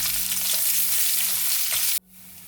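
Finely chopped onion with garlic frying in a pan, a loud continuous sizzle and crackle for two seconds, then cut abruptly to near quiet.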